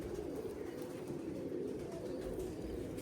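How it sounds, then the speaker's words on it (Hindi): Pigeons coo softly and continuously, a faint, steady burbling chorus from several birds with no speech. "जो उड़े हुए हिस्ट्री मेकर कबूतर आज दिखा रहा हूँ आपको"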